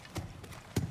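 Horse hooves clip-clopping in the God of War Ragnarok video game, a few soft, irregular hoof thuds at close range with no voices.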